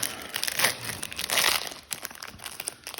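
A Duskmourn Magic: The Gathering booster pack's foil wrapper is crinkled and torn open up close, bursts of loud crackling plastic rustle for a few seconds with no talk.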